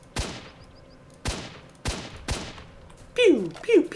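Gunfire from the 2007 video game STALKER: Shadow of Chernobyl: four sharp, loud single shots at roughly half-second to one-second intervals, followed by two quicker, warbling shot-like bursts at the end.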